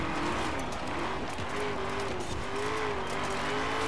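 A Hoonigan Ford Bronco racing in Forza Horizon 4 gives a steady loud engine drone with shifting pitch as it revs through corners, with faint tire noise beneath and no talk.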